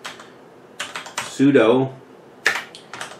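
Fingers tap a computer keyboard to enter a command on a Raspberry Pi, short bursts of close, crisp key clicks around a spoken word.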